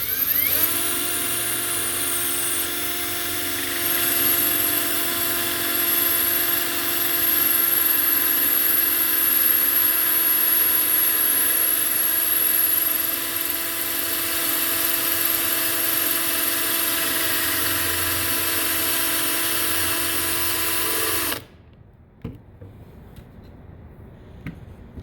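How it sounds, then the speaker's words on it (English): A high-pitched drill whines steadily as it bores into ceramic tile for about twenty seconds, then stops abruptly, leaving near silence. "as we drill our tile,"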